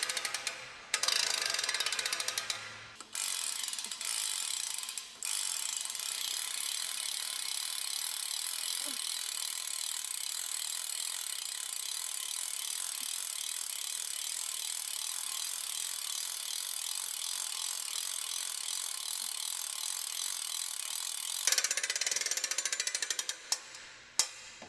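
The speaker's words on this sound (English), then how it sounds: "turn the winch wheel clockwise, feeding the cable onto the winch drum consistently and smoothly" A winch wheel being cranked clockwise while cable feeds onto the winch drum, giving a fast, steady ratcheting clatter, close and continuous for most of the stretch, with a few short pauses near the start and end.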